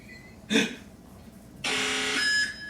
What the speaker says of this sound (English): Your perimeter alarm is going off